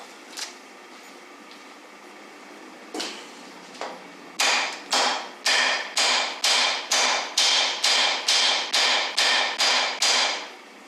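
A wooden mallet strikes an engine intake: a few scattered knocks, then a steady run of about a dozen loud, evenly spaced blows, close and alone.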